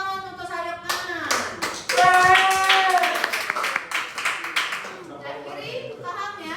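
A classroom full of students claps together as a round of applause for one side of the room, dense hand claps rising to a loud peak and then tapering off, with children's voices mixed in.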